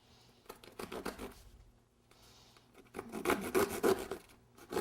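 Repeated rasping, sawing strokes of a knife cutting through a stiff cake board, in uneven bursts that grow louder and denser in the second half.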